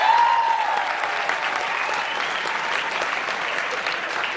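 A stand-up comedy club audience bursts into loud, sustained applause that holds evenly for several seconds, many hands clapping together in a full, close room sound with no talking.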